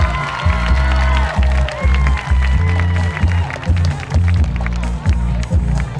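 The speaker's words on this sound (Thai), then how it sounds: "ขอเสียงปรบมือดังๆด้วยครับ" An audience at an OTOP singing contest awards announcement applauds and cheers loudly for the winning team, steady clapping and crowd noise mixed with pounding music beats and an announcer's voice.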